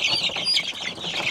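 Backyard chickens in Cebu eat bananas, giving soft close clucks and chirps along with a flutter of wing flapping, continuous and moderately loud with no talking.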